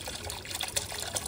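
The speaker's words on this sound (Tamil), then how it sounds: "இங்க பாருங்க, தண்ணி வெளியே கழியுது" Water flows out of a pipe into a koi pond, a continuous soft splashing trickle with small bubbling bursts, heard fairly close and alone.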